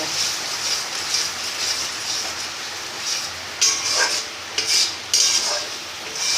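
Cashew nuts are stirred in a cooking pot with a metal utensil while a Bengali potato, pointed gourd and prawn curry is cooked. Soft scraping runs steadily, and a few sharper clinks and scrapes stand out near the end, close and alone.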